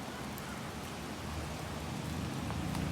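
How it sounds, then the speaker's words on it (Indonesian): Steady rain falls near a mosque in Campaka, Cianjur, a dense, even hiss of drops on surfaces with faint scattered patters, quiet and unbroken throughout. "Aduh, hujan."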